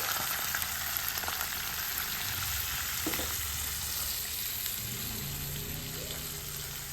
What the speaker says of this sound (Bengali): জল দিতে আমি মশলাটা কষিয়ে নিচ্ছি